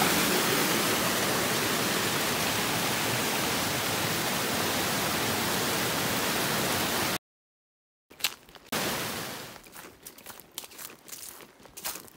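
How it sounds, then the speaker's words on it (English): Mountain water source on the Appalachian Trail near Spivey Gap, pouring in a loud, steady hiss for about seven seconds, then a gap of silence followed by scattered rustling and crunching sounds. "Beautiful water source just after you pass Spivey Gap."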